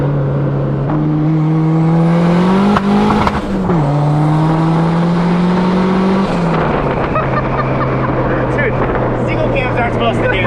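Turbocharged Honda Civic accelerating hard and building boost, a loud close engine drone climbing steadily in pitch through the gears before settling into a rough, busy roar, with people talking over it.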